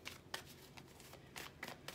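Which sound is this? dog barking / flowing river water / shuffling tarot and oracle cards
shuffling tarot and oracle cards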